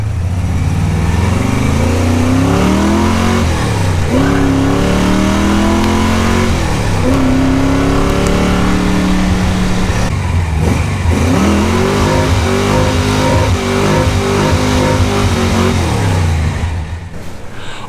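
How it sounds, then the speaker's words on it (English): A Super Sport Monte Carlo with an aftermarket exhaust revs hard during a burnout attempt, loud repeated rising and falling engine surges over a sustained roar, with no voices. "I decided to get another car out, the Super Sport Monte Carlo, and go do my own burnout"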